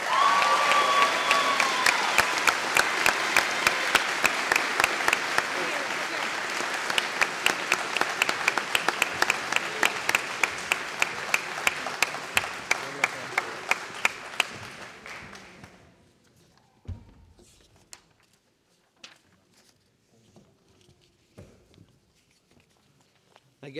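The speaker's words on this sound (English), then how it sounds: "Again, a huge round of applause for TJ" An audience at a school graduation ceremony breaks into loud, sustained applause with some cheering, clapping for about fifteen seconds before thinning out to a few scattered claps and footsteps.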